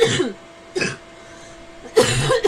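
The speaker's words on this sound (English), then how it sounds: "I just still have my cough from last week" Three separate coughs from one person at a microphone, each a short harsh burst with quiet gaps between them, while a faint steady hum sits underneath.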